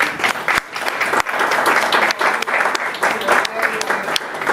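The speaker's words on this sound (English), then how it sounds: "Can you all give yourselves a big round of applause?" A crowd claps in sustained, loud applause, a dense patter of many hands that continues steadily throughout.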